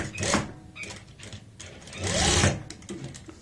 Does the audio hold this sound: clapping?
no